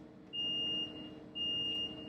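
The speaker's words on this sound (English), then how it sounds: "so it's about to start beeping" Two steady high-pitched electronic alarm beeps from a Sinterstation 2500+ industrial 3D printer, each about half a second long, repeating with a pause between them over low background rumble.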